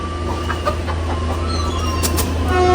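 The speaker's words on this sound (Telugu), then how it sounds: "కోళ్ళు పట్టుకోవడం చాలా కష్టం, కానీ ట్రై చేస్తున్నాను" Chickens clucking in a pen as someone tries to catch them, short squawks scattered over a steady low hum of background noise.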